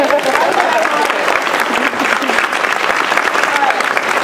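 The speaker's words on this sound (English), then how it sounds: "everyone give them a round of applause." Loud, sustained applause from a convention panel audience at a gaming convention, dense clapping filling the room steadily with crowd noise mixed in.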